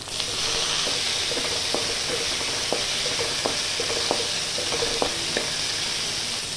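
One medium tomato, finely chopped, sizzles steadily in a pan for cauliflower pepper fry, a constant broadband frying hiss with scattered light clicks and taps of stirring, close and alone without speech.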